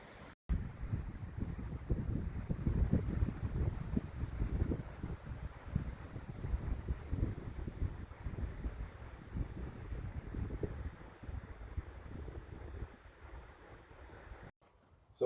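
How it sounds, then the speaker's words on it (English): Cold wind gusts outdoors at an off-grid cabin, buffeting the microphone with a low, rumbling roar that swells and fades for several seconds before cutting off abruptly. "So it looks like it's going to be another cold, windy one today"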